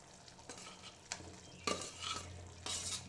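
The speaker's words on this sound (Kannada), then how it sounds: "ಈ ಆಲೂಗಡ್ಡೆನ ನಾನು ಮಿಕ್ಸ್ ಮಾಡ್ಕೊಳ್ತಿದ್ದೀನಿ ನೋಡಿ" Potatoes for a potato saagu are stirred in a pot over a low sizzle, quiet scrapes with a few louder ladle strokes and clatters toward the end, no voices.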